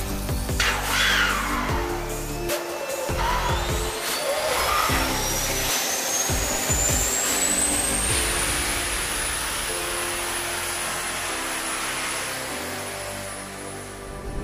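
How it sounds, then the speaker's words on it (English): An F-22 Raptor's auxiliary power unit spooling up on the ground, a loud steady whine climbing in pitch over several seconds and then holding a high constant tone over a roaring base. "he's going to fire off the APU. Once that's up and running"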